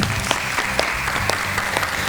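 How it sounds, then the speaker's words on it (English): A roomful of people applauding together in steady, dense clapping, loud and continuous, at a gathering of young girls and women who lead a city. "let's give everybody applause,"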